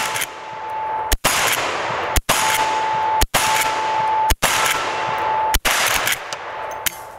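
Gunfire from an 1894 CST rifle at an outdoor range rings out as six sharp, loud shots spaced roughly a second apart, each a crisp crack over steady wind and background hiss.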